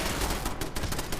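Rapid automatic gunfire from Fallout 4 rattles in dense repeated bursts, loud and continuous, with no talking.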